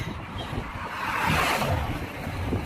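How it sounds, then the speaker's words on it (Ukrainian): Steady wind blowing hard against the microphone on a sunny day in Rome, a continuous rough rumble and whoosh with no talking. "ой, який вітер"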